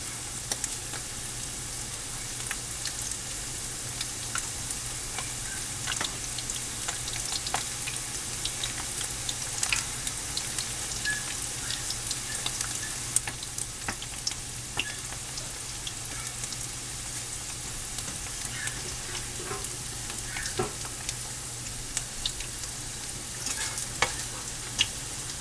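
Canned french fries fry in a pan, giving a steady close sizzle and crackle with scattered small pops and spits that run unbroken throughout, with no voices.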